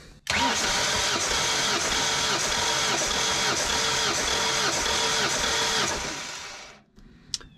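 A Ford LRG-425 engine on a JLG 80HX boom lift cranks during a compression test, a loud rhythmic starter churn pulsing evenly for about six seconds before it stops.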